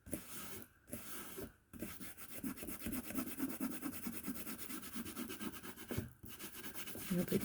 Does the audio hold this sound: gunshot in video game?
no